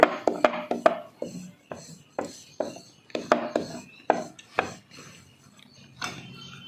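A steel lid presses out puris from thinly rolled dough on a board, giving a quick series of sharp, close tapping knocks in uneven bursts with short pauses between them.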